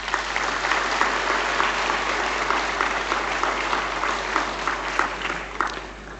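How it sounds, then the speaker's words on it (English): An audience at the inaugural session of a national human rights conference applauds to welcome the President of India, steady dense clapping throughout with a few sharper claps standing out, no voices. "May I request all of you to welcome the President of India with a round of applause."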